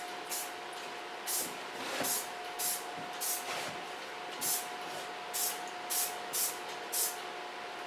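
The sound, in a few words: spraying soft brush-out hairspray on hair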